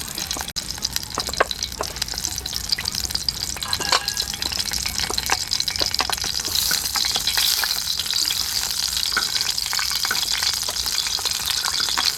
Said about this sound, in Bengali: আমি তার পনিরটা ভেজে নিই